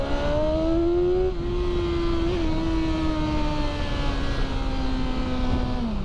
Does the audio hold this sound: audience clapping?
no